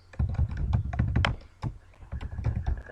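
Typing on a computer keyboard while building an HTML form, a close run of quick irregular key clicks with a brief pause, no talk.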